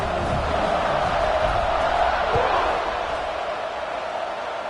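Stadium crowd noise from the video game College Football 26 at a kickoff against Penn State, a steady dense roar that holds evenly throughout with no distinct voices standing out.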